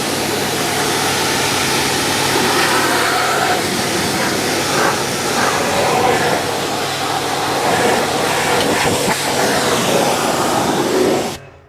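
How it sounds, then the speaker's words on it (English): A pressure washer gun blasts mud and dirt off the wheel and arches of a Volvo 240 estate, a steady loud broadband hiss with motor drone running continuously and close, cutting off at the end. "So now we're going to take our gun after we clean that wheel, get in here and start blasting away all this dirt."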